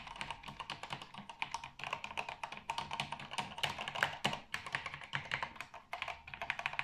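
Close, rapid typing on a Nixdorf CTD7YSNCRKB11 keyboard fitted with Cherry MX Black switches: a dense, uneven stream of clacky keystrokes, steady throughout with no pauses or voices.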